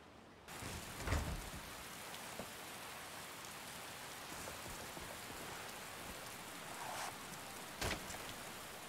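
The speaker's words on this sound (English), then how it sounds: "it's raining" Steady rain falling in Skyrim, a constant hiss of drops on surfaces with occasional louder spatters, ambient and continuous with no talking.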